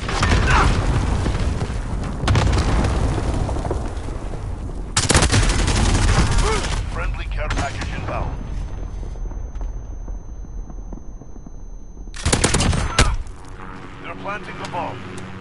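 Cluster strike explosions and rattling gunfire in Call of Duty multiplayer, loud repeated booms and bursts in several waves, with speech over the combat.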